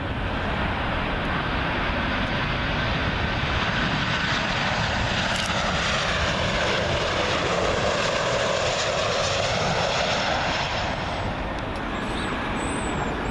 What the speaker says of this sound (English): It's a KLM 737 in from Amsterdam